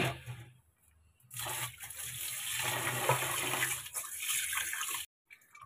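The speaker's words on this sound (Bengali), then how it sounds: "আর চাল ধুয়ে নেব" Water runs and sloshes over raw rice being washed in a pot for a vegetarian meal, a steady splashing rinse after a brief quiet start, cutting off near the end.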